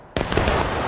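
A massed musket volley crashes out in a Civil War–era video game skirmish, one loud burst of many overlapping shots merging into a sustained roar that rings on without any voices.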